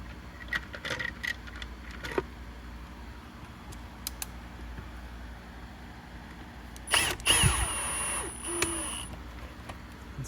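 Plastic parts of a Hoover WindTunnel 3 upright vacuum's dust bin and cyclone assembly being fitted back together, scattered close clicks and knocks with a louder clattering burst midway.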